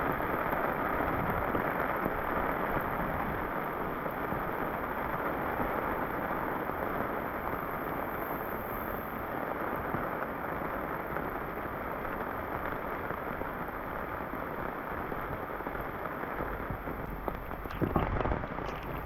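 Steady rain pours down in a forest setting, a dense unbroken hiss of drops holding even loudness throughout, with a brief knock near the end.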